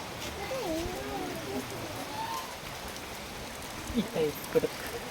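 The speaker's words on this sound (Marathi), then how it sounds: "पाऊस काय आज बंदच नाही होत वाटतं" Steady rain falls outdoors as a soft, constant wash of drops, with faint voices and a few brief nearby sounds near the end.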